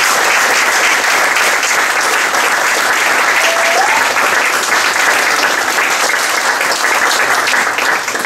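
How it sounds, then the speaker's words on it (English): Audience applause fills the hall after a conference talk on systems thinking, a steady, dense wash of clapping that stays loud and even for the whole stretch with no voices over it. "A round of applause."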